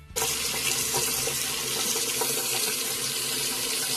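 A bathroom sink tap runs in a steady, loud and close stream while a piercing needle and earring are washed with antibacterial soap. The rush starts abruptly and continues without talk.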